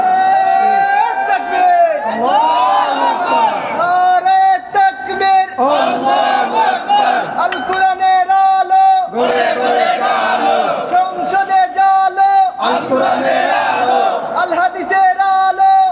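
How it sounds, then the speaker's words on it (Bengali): Crowd at an Islamic waz mahfil in Moulvibazar chanting slogans with raised hands, loud rhythmic call-and-response shouts repeating in waves, a lead voice leading the massed voices. "দুহাত উঁচু করে স্লোগান দিয়ে আল্লাহর দেখান।"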